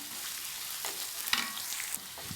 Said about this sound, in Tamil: இஞ்சி பூண்டு நல்லா வதங்கட்டும்